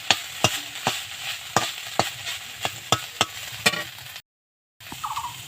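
Drumstick flowers and banana stem frying in a pan with a pinch of sugar and turmeric, a ladle knocking and scraping in a regular rhythm over a steady sizzle, with a short silent gap before it resumes.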